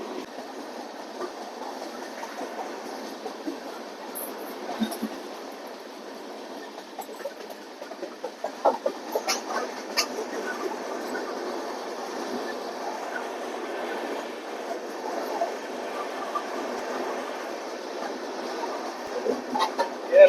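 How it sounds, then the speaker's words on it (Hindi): The Rajendra Nagar–Howrah Express rolls past on railway tracks near the Rajendra Nagar washing-area line: a steady, close rumble of wagons with rhythmic wheel clatter that grows busier midway and continues for about twenty seconds. "ये राजेंद्र नगर हावड़ा एक्सप्रेस।"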